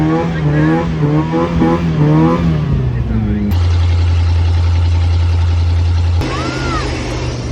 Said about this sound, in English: now that there's no exhaust, all I want to hear is the rev limiter